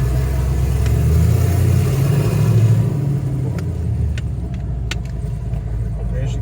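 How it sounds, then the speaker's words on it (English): A 2008 Jeep Wrangler with a 5.3L V8 swap and B&M shifter cruises down the road, its engine a steady low rumble under road noise throughout, with a few brief clicks late on. "As you can tell, she drives down the road just like any other Jeep would, but also has a little bit more power than most."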